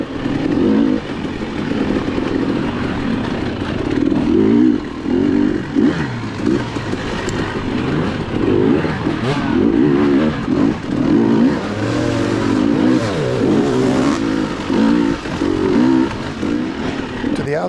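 A motorcycle engine revs and roars continuously throughout an off-road NETRA race, loud and close with rising and falling pitch as the rider works the throttle, and someone talks over it at times.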